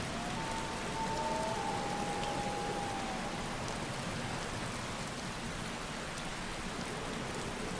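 Steady rain falls throughout the Skyrim game world during a fishing scene, a dense, even hiss of raindrops with no talk and a faint tonal whistle early on.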